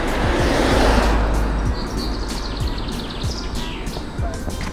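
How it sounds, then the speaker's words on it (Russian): Birds sing and chirp in short, thin tweets among coniferous trees on a street of houses in the coastal town of Svetlogorsk. The calls are faint and come from a distance, over a steady rumble of passing car traffic. "Птички поют."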